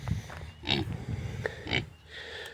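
Pigs at their feed and water dishes on a homestead, snuffling and giving several short grunts and oinks close by in uneven bursts, with no one talking.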